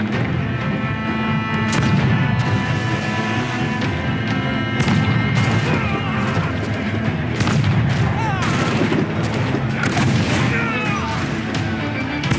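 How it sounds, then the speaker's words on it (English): Ship deck gun firing in Assassin's Creed IV, a dense barrage of repeated booming cannon blasts layered over steady battle din, with occasional speech mixed in. "And I'll use the deck gun."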